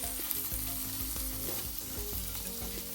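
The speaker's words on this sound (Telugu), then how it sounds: "దీంట్లోకి ఇప్పుడు నేను ఆల్రెడీ ఫ్రై చేసుకున్న పన్నీర్ కూడా వేసేసుకుంటున్నాను" Paneer and gongura fry in a hot pan for a Telugu-style fried rice, giving a steady loud sizzle with stirring scrapes and clatter throughout, and no voices.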